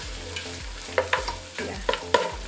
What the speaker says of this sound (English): So I'll also let it fry for a bit. So I'll mix this up.